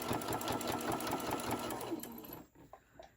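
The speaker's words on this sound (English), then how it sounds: "You're gonna put this underneath your sewing machine. And I'm going to sew going across" A domestic sewing machine stitches across fabric scraps for beginner key fobs, a steady fast mechanical whirr with rhythmic needle ticks that runs loud for over two seconds, then cuts out to quiet with a few faint clicks.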